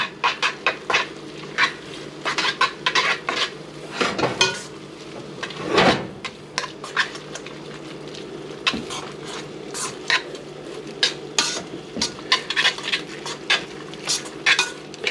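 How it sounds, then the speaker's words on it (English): Tuna casserole ingredients stirred in a pot at home, with a spoon scraping and clinking against the pot in irregular bursts and soft squishing in between, close and fairly loud, with no talking. "Then we're gonna want to stir all that in"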